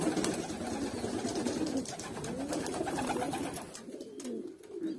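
Hünkari pigeons coo in soft, low, rolling calls that overlap continuously at close range, with no voices over them.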